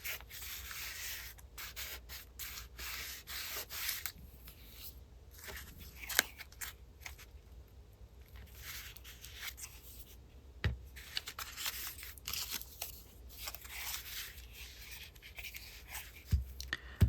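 Paper pieces torn from a book being trimmed with scissors in a quiet room: faint, close snips and papery rustles scattered unevenly, with occasional sharper cuts and crinkles.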